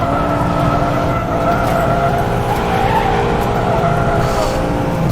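BMW M5 tires skid and squeal continuously while drifting in the rFactor2 racing sim, a steady loud howl layered over the sustained drone of the engine, with no break for the full stretch.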